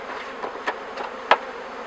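Bees in a beehive hum in a soft, close buzz, with a few brief louder passes of single bees flying near.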